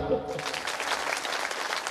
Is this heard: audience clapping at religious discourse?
yes